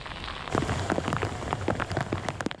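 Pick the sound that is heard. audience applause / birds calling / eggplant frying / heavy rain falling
heavy rain falling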